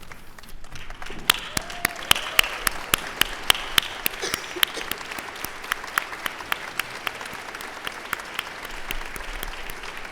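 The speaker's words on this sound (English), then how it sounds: "Please stand up and give them a round of applause to think of them." A seated audience stands and applauds at a university graduation ceremony, a dense, sustained wash of clapping with sharper individual claps standing out, steady and loud throughout with no talking.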